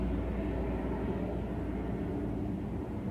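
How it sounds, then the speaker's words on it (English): A four-engine propeller plane passes overhead on a windy day, heard as a steady, broad low drone that holds evenly throughout with no talking. "One of those four-engine prop planes."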